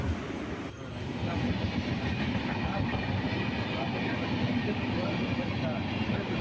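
Ananthapuri Superfast Express train running toward Thiruvananthapuram Central, a steady close rumble of the moving carriage with continuous low roar and faint rhythmic rattling throughout.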